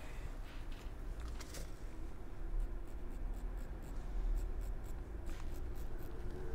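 A colour pencil tracing marks on fabric, a faint, close, scratchy rubbing in uneven strokes over a low background rumble, with no talking.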